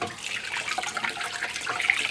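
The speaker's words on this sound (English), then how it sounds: "A little bit more cold water in here." Cold water runs from a tap into a cooking pot inside a camper van, a steady close hissing stream with a bright splashing edge that carries on unbroken for a couple of seconds.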